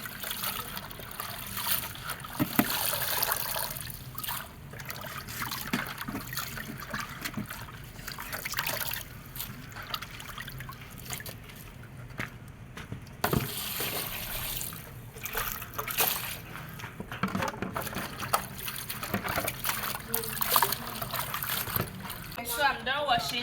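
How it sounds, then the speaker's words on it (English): Vegetables being washed by hand in a bowl of water for an African dish, continuous splashing, sloshing and trickling close by, with some talk in the background. "So let's wash the vegetable."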